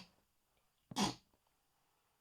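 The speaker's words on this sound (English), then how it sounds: "Oh no, I'm going to sneeze." One sudden sneeze bursts out, short and fairly loud, in an otherwise quiet room with faint breathing around it.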